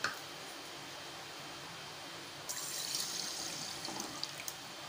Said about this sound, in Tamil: ஒரு கப் தண்ணி விட்டுப்போம்.